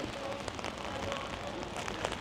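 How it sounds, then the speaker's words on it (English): Rain falls steadily on surfaces around a fortress complex in Khujand, Tajikistan, a close hiss of dense pattering with scattered sharper drops. "Yeah, the rain is kind of actually going strong though."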